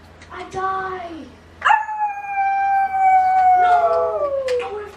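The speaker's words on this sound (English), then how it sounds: "what are you howling for?" A dog howls in long drawn-out rising and falling wails across several seconds, loud and close, with a few short yips in between, heard during a game.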